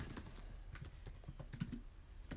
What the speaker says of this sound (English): I'm not very good at typing and talking at the same time